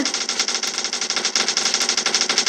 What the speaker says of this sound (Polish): Mój no helikopterek do mnie strzela teraz.